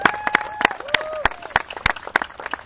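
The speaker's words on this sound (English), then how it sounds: "a big round of applause for everybody here" Applause for sponsors at a softball tournament: scattered, uneven handclaps from a small outdoor crowd, with a voice talking over the clapping throughout.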